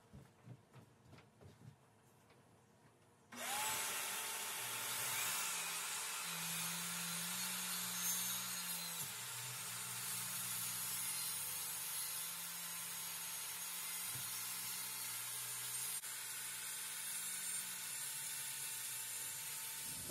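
A track saw rips through an ash board in a small shop for a conference table build, starting abruptly after a few quiet knocks and then whining loud and steady, with shifting pitch, for the rest of the cut.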